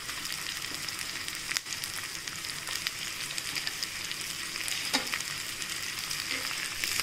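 Tomatoes fry in butter in a pan for dal makhani, giving a continuous bright sizzle with crackling and occasional stirring scrapes, close and steady with no talking.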